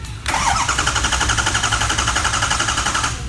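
A 2003 car with a faulty engine cranks and catches, then runs steadily with a rough, rhythmic rattle, close by and loud, before cutting off near the end.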